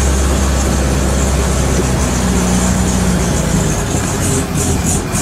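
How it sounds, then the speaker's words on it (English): A vintage Austin 7 engine idles with the choke pulled out, a loud, steady low rumble close by that runs throughout with no voices. "Oh, this is that engine. It's a little bit spluttery at the moment."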